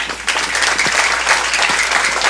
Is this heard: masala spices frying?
no